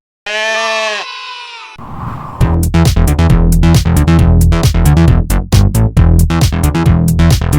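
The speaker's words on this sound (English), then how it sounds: "Goat." A toy farm goat gives one clear, wavering bleat lasting under a second. A short pause follows, then loud, steady upbeat children's music plays to the end.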